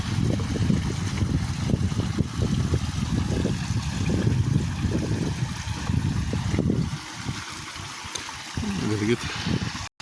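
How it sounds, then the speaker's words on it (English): A natural waterfall makes a continuous rushing, splashing water noise at moderate level, with a voice speaking over it and the flow dropping to quieter trickling near the end. "A natural waterfall."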